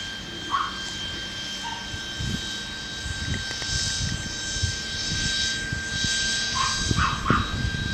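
Drone fitted with a DJI XP3.1 flight controller flying at steady altitude and speed, a continuous high motor whine with steady tones heard from a distance, joined by scattered low thumps and a few faint outdoor noises.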